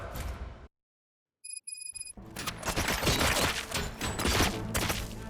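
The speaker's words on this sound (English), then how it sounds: "Gunshots? What's going on?" Dense burst of gunfire from a Robocop comic-dub scene, sustained automatic shots and crashing impacts filling the last three seconds after a short silence and a few electronic beeps.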